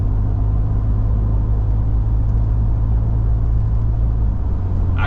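Ford F-150 EcoBoost pickup with an AWE exhaust and SPD resonator accelerating toward highway speed, heard from inside as a steady, loud low engine and road drone with turbo whir and no talking.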